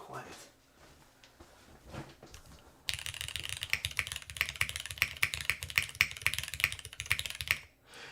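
Custom-built ADA mechanical keyboard being typed on, a quiet stretch giving way to a rapid, steady patter of crisp keystrokes with regular louder thocks from the spacebar, close up, over faint background noise.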